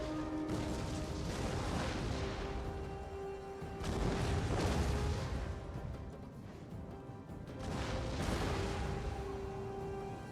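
Artillery fire in Total War: Attila, shots bombarding an enemy unit: repeated dull booms and crashes rolling over dense battle noise, with a steady tonal hum running underneath and swelling bursts of impact.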